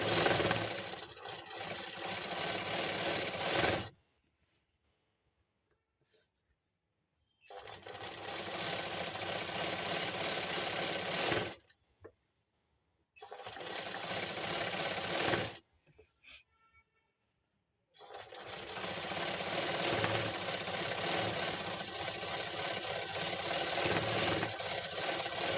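A sewing machine stitches a nightie shoulder alteration, running in loud sustained bursts with several short pauses between them and no talk over the whirring.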